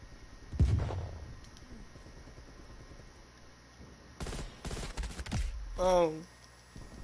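Gunfire in Call of Duty Cold War during a beta match: a loud shot near the start, then a clustered burst of rapid shots later, mixed with other game effects and some talk.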